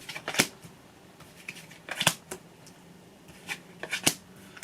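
Tarot cards are shuffled by hand in a quiet room, giving short crisp riffling bursts in irregular clusters with pauses between them, close and moderately soft.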